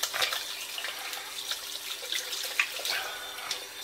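A bathroom tap runs steadily into a sink while shaving lather is rinsed off the face, a close, continuous hissing splash broken by small irregular splashes, with no talking.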